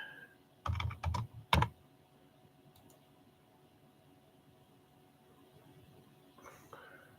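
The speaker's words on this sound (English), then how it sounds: "Let me type in my zip code." A computer keyboard tapped in a short flurry of keystrokes while a zip code is entered, fairly close and quiet, followed by low room hiss and a faint voice near the end.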